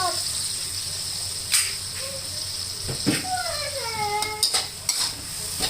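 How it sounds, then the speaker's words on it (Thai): Minced chicken and mushrooms stir-fried in a pan for Thai basil stir-fry, with a steady sizzle, spatula scrapes and metal clinks against the pan, and someone speaking over it. "ผัดให้เข้ากันนะคะ"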